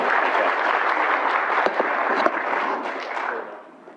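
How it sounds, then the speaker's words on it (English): An audience applauds a speaker taking the stage at a talk, a dense wash of clapping with a few sharper claps standing out, fading away toward the end. "Let's give Stig a round of applause, everybody."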